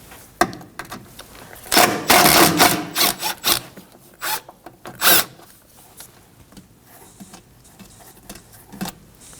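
A ratchet works an 8mm bolt loose on a Ford Edge grille shutter, giving a burst of quick metallic clicks and rasping turns, then scattered shorter clicks and scrapes, close and fairly loud.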